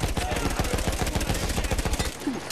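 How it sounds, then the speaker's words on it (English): Dense, rapid gunfire from a Battlefield 1 battle, with overlapping bursts and single shots cracking nonstop and close, as if from many directions at once, then thinning out near the end. "I'm getting shot from every single angle."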